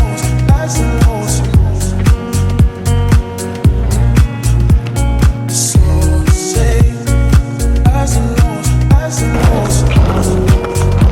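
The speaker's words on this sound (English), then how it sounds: "When I was riding the skateboard, I was only thinking about angles and then just skating." Skateboard wheels roll loudly and continuously over pavement, with repeated clacks and bumps from cracks and joints, heard close up throughout with no talking.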